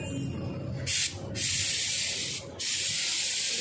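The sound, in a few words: spray nozzle spraying white liquid on a Royal Enfield Meteor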